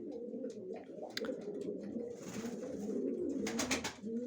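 Pigeons coo in low, rolling calls, several birds close by, with a few brief flutters and chirps mixed in.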